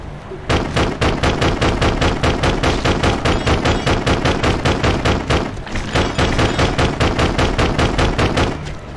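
Rapid, steady bursts of gunfire from the Death Jr.: Root of Evil video game, loud and close, with a brief pause midway before the shooting resumes.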